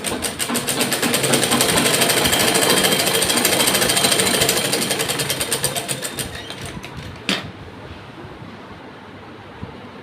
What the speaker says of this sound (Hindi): एक बार इसको हम सिलाई लगा देंगे दोबारा से